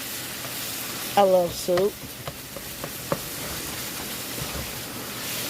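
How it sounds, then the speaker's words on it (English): Onions sizzle and simmer with vegetables in a pot for a ground beef vegetable soup, a steady soft frying hiss with faint stirring, and a voice speaking briefly over it. "I love the way I'm getting my onions started off like this"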